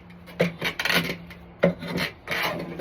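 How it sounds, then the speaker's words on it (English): A 6-inch bevel-down draw knife shaves wood for an axe handle, giving rasping, scraping strokes in an uneven rhythm of about five pulls, close and moderately loud, with no talking. "we're going to use a draw knife for that."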